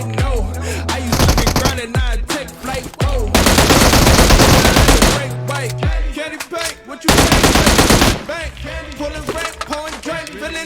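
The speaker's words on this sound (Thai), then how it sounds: "การยิงออโต้ของปืน M16 นะครับ ก็จะเป็นแบบนี้เลย" Fully automatic M16 fire in the video game PUBG Mobile comes in several long, loud, rapid bursts separated by short pauses, with gameplay effects between the strings of shots.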